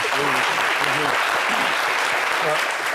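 Steady, loud applause from a crowd, continuous clapping throughout with a voice faintly audible underneath.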